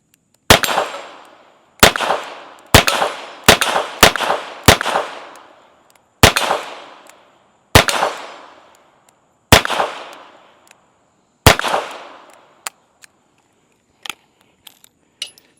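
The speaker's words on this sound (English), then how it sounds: "put her ears back on and fire a little bit more through her." A Ruger GP100 revolver chambered in .22LR firing, about ten sharp close shots in an uneven rhythm, each one ringing off briefly, followed by a few quiet mechanical clicks.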